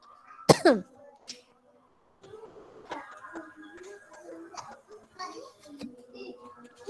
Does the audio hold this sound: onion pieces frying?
no